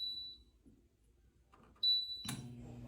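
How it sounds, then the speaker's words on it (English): A sublimation oven's control panel gives a short, clear electronic beep, sounding twice with a pause between, followed by a low hum of the oven running. "It has a satisfying little beep."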